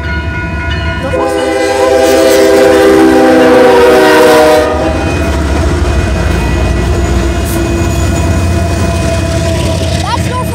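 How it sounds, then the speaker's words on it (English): A Norfolk Southern train passes close by with a steady rumbling roar, its horn sounding loudly for about three seconds before the noise settles into a continuous rolling rumble, while people talk nearby. "Hey, that was a Norfolk Southern train."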